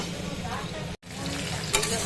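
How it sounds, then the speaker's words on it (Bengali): Potato, eggplant and tomato fry with ground spices in a wok, making a loud, steady close-up sizzle with stirring scrapes, briefly cut off for an instant midway. "আলু বেগুন আর টমেটো সব রকম গুঁড়ো ভাজা হয়ে গেছে"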